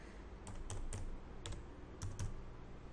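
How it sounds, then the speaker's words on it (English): Computer keyboard typed on to enter a survey distance in DataCAD: a handful of light, quick key clicks in a short burst over a steady background hum, no talking. "After I type that distance,"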